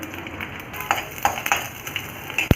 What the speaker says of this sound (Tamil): சூடானதும் நம்ம வச்சுருக்க பூண்டை ஆட் பண்ணிக்கலாம்